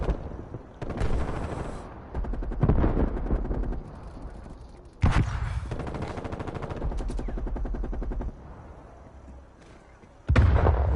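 Automatic pistols firing in loud, rapid bursts of gunfire, several sustained volleys separated by short pauses, with crackling reports throughout.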